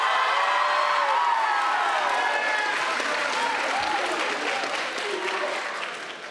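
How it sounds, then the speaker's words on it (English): A spirited school crowd at a college and career kickoff event bursts into loud applause mixed with cheers and whoops, sustained for several seconds before tapering off at the end. "I had to get some cheap applause somehow"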